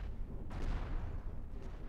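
Cannon fire in the space ship game Cosmoteer booms out as heavy, rumbling low blasts with a sharp crack near the middle and a fainter one later, over continuous game noise.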